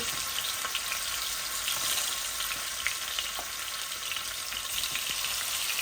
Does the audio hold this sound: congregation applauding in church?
no